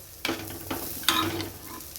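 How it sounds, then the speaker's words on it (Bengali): An egg omelette fries in a pan, a soft sizzle broken by a few clattering spatula strokes, close and fairly loud, with no talking. "এখন আমি আমার জন্য ওই ডিমের অমলেটটা ভেজে নিচ্ছি"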